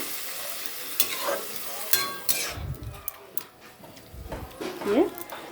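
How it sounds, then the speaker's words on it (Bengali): An onion stalk curry bubbles and sizzles in a pan while a utensil stirs and scrapes it in uneven knocks and clatters. A voice talks over the cooking. "এই দেখো বন্ধুরা কত সুন্দর ফুটছে"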